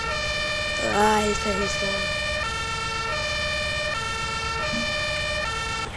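Loud siren horn on an emergency vehicle in Farming Simulator 19, a rising wail followed by a steady multi-tone blare that holds throughout, with a man briefly calling out over it.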